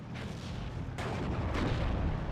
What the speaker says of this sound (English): Mortar fire coming in onto the Pak-38